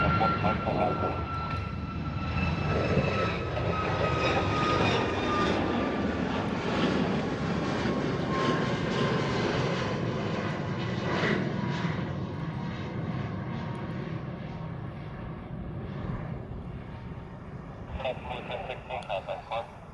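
An aircraft takes off at a Hawaii airport, with a loud, sustained engine roar that builds and then slowly fades as it climbs away. A radio voice is heard faintly.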